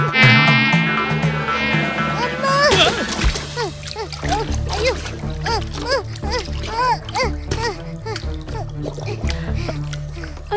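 A mosquito's whiny buzz rises and falls repeatedly over voices talking in Tamil in a children's cartoon, with a splash of water near the start.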